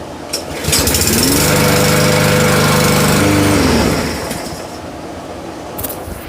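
A lawn mower engine catches on a single pull and runs loud and steady for about three seconds, its pitch rising as it revs, then drops back to a quieter idle.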